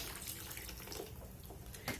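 About three cups of water poured over soaked rice and roasted masala for avarekalu masale bath, a field-bean spiced rice. A quiet, steady stream splashes and gurgles throughout.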